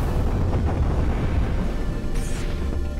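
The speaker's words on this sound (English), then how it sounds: "More explosions." Deep rumbling booms and blasts roll under a constant noisy wash, explosions in the video game Panzer Dragoon Saga, with a brief sharper burst near the end.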